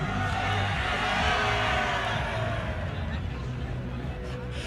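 Large crowd at the Cool Ridge Burnie Athletic Club New Year's Eve carnival, a cycling and athletics meet, roaring and cheering in a steady dense wash of voices that stays loud throughout and eases slightly toward the end.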